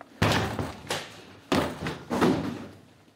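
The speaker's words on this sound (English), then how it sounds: "The occupants are refusing to open the front or back door, so officers get ready to do it the hard way." Police officers forcing entry through a locked front or back door, with several heavy, close thuds and slams hitting the door in quick, uneven pairs.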